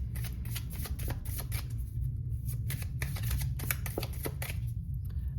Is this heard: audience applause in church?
no